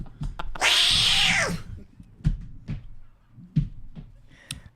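A man imitates a cat with one long, loud, wavering meow, followed by scattered short knocks and small noises.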